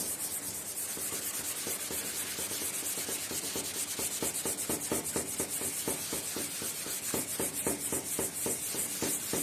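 Sandpaper of 320 grit wrapped on a small block rubs steadily over a painted surface, a continuous close scratchy hiss with quick back-and-forth strokes that grow more rhythmic toward the end.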